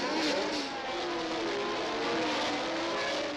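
Formula 1 cars of 1977 accelerating hard off the start, a dense, loud roar of several racing engines blended together, sustained throughout with no gaps.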